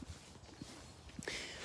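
Horses wearing coats in cold weather walk past, their hooves giving a few faint, spaced clip-clops, followed by a louder burst of broadband noise near the end.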